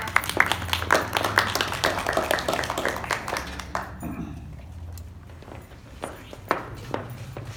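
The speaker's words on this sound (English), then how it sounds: "Let's give her a warm applause." Audience applause breaks out at a talk welcoming a speaker to the stage, a dense patter of clapping for about four seconds before it thins to a few scattered claps, with voices talking over it.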